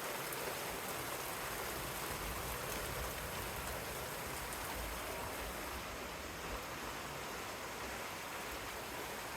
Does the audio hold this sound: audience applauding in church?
no